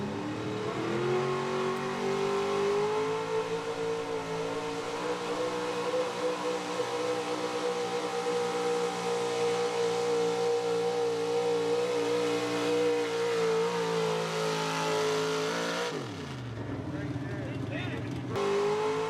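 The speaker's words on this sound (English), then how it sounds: "He drove it really good off the line, had a nice smooth takeoff, gradually got into the throttle" A 1987 Chevy gas-powered 4x4 pulling truck roars at sustained full throttle through a pull, its loud, steady engine drone holding high for most of the run before cutting off abruptly near the end, with a brief rev after.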